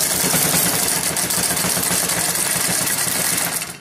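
A compound lever inertial drive with no wheels underneath runs on a surface, giving a fast, steady mechanical chatter and rattling buzz, loud and close, fading at the end as it winds down.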